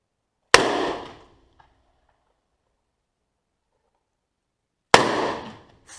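Two loud, sharp .44 Magnum revolver shots crack out about four seconds apart at an outdoor shooting range, each followed by a short booming decay into quiet.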